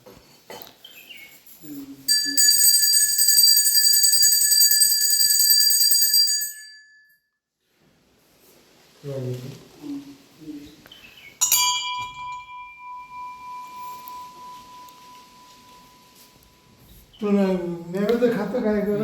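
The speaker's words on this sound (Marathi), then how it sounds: "घंटी वाजवा." A small puja bell rings during a traditional Gudi Padwa ritual at a home in Konkan, with a long, bright, sustained ringing followed by a second, shorter ring. Voices speak between and after the ringing.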